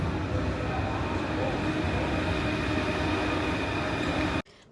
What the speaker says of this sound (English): the metro, and this train has 5-minute intervals